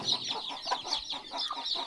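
A mother hen and her chicks cluck and peep in a farmyard, with repeated close chirps and clucks in a steady stream and no voices.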